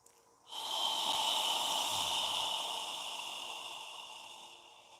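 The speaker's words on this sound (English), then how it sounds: "inhale and squeeze out all of the air on the exhale" A forceful yoga exhale, one long hissing breath pushed out through the nose and throat, close and loud, fading slowly over several seconds.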